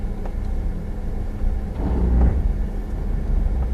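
A 2019 Suzuki Jimny creeps down a hill in low range under hill descent control, giving a steady low engine rumble with a slight swell of mechanical noise midway, close and continuous with no talk.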